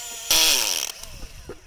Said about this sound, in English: we just drill down